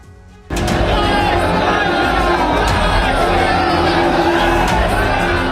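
A huge crowd of devotees at the Ram temple in Ayodhya, a dense roar of voices and chatter that surges in suddenly and stays loud and continuous.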